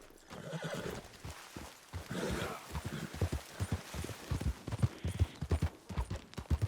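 A horse in the Red Dead Redemption 2 video game clip-clops uphill in a rapid, uneven hoof rhythm that grows louder, mixed with neighs and snorting breaths.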